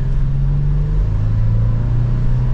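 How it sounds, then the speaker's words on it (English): A steady low engine drone from a 2024 Toyota 4Runner SR5 Premium holds throughout as it builds speed at half throttle, its hum rising slightly, close and continuous with no talking. "This old engine and transmission, getting up to some speed"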